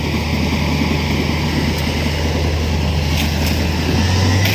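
A John Deere sugarcane harvester's engine runs loud and steady in a cane field, a continuous heavy diesel drone with deep low rumble and no pauses, heard close by without talk.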